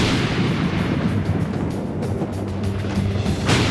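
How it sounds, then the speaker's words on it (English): Thunder from a lightning bolt rolls as a loud, dense, broadband rumble, continuous and booming throughout, with a sharper crack swelling near the end. "When you see a bolt of lightning, it ionizes the air, and then when it's finished putting out light, the air molecules crash together and you get this super loud sound"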